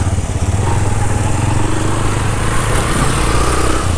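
A motorcycle rides past near Mangla Dam in Mirpur, its engine a steady, fairly loud drone with a low hum that holds through the whole stretch, with no talk over it.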